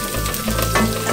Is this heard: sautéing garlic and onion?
yes